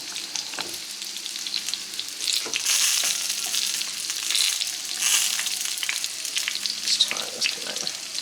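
Shishito peppers fry in a pan with a constant close sizzle and crackle, swelling in waves as they are stirred and turned with tongs.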